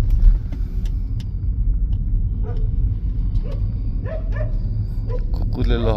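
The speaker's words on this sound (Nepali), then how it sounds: "कुकुरले लहटिरा यार" Dogs bark in short bursts over the steady low rumble of a car on a Christmas Eve night drive through Thamel and New Road, Kathmandu, the barks growing nearer and busier toward the end.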